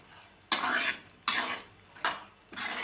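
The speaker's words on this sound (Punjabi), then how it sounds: "ਮੈਂ ਮੂੰਗਰੇ ਪਾਤੇ ਕੜਾਈ 'ਚ ਇਹਨੂੰ ਥੋੜਾ ਜਿਹਾ ਮਿਕਸ ਕਰ ਦੇਣਾ ਇਹਨੂੰ" A spoon stirs mungre radish pods in a kadai, producing four scraping, sizzling strokes at a steady rhythm, close and clear with no talking.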